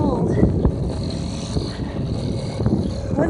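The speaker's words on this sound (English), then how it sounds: "It's getting really windy now" Strong wind in a cold winter storm with fresh snow, a rushing, buffeting roar that hits the microphone in uneven gusts, close and fairly loud throughout.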